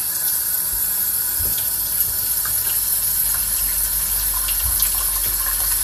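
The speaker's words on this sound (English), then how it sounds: "Now, when the water fills up to the pot, it's going to go about halfway." Tap water runs steadily into a cooking pot, making a continuous even gush and splash with no talking.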